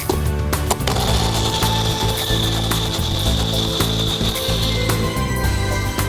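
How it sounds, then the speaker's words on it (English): A kitchen mixer grinder blending dates with almond milk, running loud and continuous with a whining motor tone and rattling clatter throughout, no talking. "I've added some dates to my mixer grinder, to which I am going to add some almond milk"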